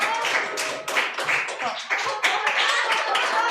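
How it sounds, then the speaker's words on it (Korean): A church crowd claps steadily and cheers, a dense, lively burst of applause with voices mixed in throughout. "박수, 힘찬 박수 함성 부탁드릴게요."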